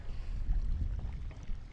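Strong wind funnelling down a river buffets the microphone with a low, gusty roar, continuous and close, at the river's edge.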